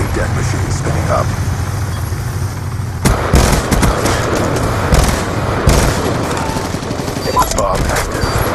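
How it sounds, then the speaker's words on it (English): Death Machine gun firing during a Call of Duty Nuketown Demolition match, dense rapid gunfire and booming explosions layered with battle noise, loud and continuous, with announcer-style speech mixed in. "Friendly death machine spinning up."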